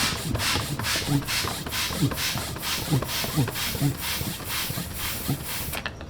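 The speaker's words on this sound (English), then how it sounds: "And then you'll insert the pump, hold it into place, start filling it up with the air." A hand pump inflates an NRS Maverick inflatable kayak, giving a steady run of rhythmic, rubbing strokes about twice a second, fairly close and moderately loud, continuing without pause.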